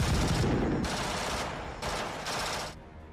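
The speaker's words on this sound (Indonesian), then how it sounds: "langsung merondongi sniper NVA dengan sejumlah tembakan dari senapannya" Rapid automatic rifle gunfire in a Vietnam War film rattles in sustained bursts with brief gaps, loud and close, filling the whole stretch.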